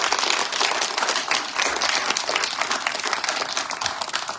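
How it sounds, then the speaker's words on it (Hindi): An audience at a katha in Shree Raghunath Temple applauds loudly and steadily for a few seconds, with dense, continuous clapping close by and no speech over it. "सागर जी के आज के प्रवचन के लिए जोर से तालियां बजाकर अभिनंदन करेंगे।"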